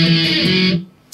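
A short burst of distorted electric guitar from the interlude of a song, loud and sustained for under a second before stopping, followed by near silence and a faint brief noise.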